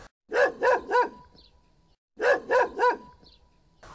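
A dog barks close and clear in two bursts of three quick barks each, separated by a short silence.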